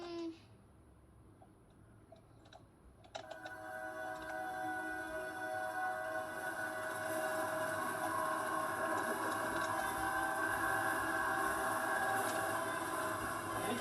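A train rolls closer in a Roblox tunnel game, starting as a low rumble and then swelling into a loud, sustained rattling roar that keeps building.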